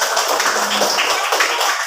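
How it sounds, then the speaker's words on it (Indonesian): Children in a fourth-grade classroom clap their hands together, a dense, close burst of clapping that runs throughout. "Oke, tepuk tangan."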